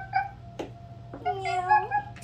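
A person imitates a cat, giving a couple of short meow-like calls and then a longer drawn-out meow, close and fairly quiet.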